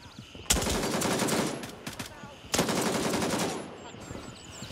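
Loud bursts of automatic gunfire in the video game Gray Zone Warfare, two long rattling volleys separated by a short pause, close and harsh, with faint chirping in the background.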